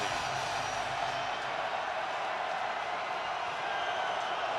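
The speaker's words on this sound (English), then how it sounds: "And now the crowd is going to go crazy." A steady, loud roar from a stadium crowd at a 2018 Chicago Bears home football game against the Rams, building on a fourth down. The cheering forms an unbroken wall of noise that fills the whole moment.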